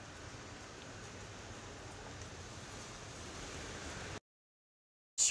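Steady rain falls outside, a dense even hiss running unbroken for about four seconds before cutting to silence.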